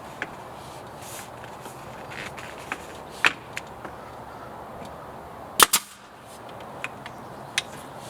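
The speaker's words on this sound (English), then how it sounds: "I'm using just a 1/4 inch crown staple" A crown stapler drives 1/4 inch staples into aluminum-clad door brickmold, producing sharp, isolated snapping shots spread irregularly, one notably louder double crack, over a quiet background.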